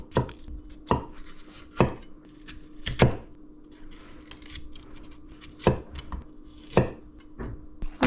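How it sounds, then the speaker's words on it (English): A knife chops a green pepper on a cutting board in sharp, separate strikes with uneven gaps, about ten hits in all, close and clear against a quiet room with no talking. "It's been a while since I cut a green pepper."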